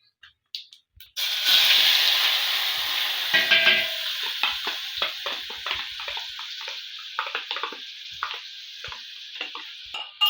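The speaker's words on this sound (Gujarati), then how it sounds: "ડુંગળીનો વઘાર કરી લીધો એટલે થોડીક ડુંગળી સડે જાય" Onions sizzle hard in hot oil tempered with mustard and cumin seeds for a yam curry, a steady loud frying hiss broken by clinking stirs and light ticks, with no talk.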